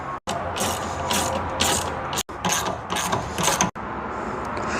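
Quick ratchet clicks tightening 10mm charge tube clamps in the engine bay of a Saturn Sky, in close, steady runs broken by a few brief pauses.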